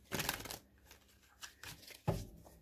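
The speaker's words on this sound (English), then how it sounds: "One more shuffle" Tarot cards being shuffled up close in quiet bursts, a rustling riffle at the start followed by a few softer, separate flicks and a sharper final shuffle.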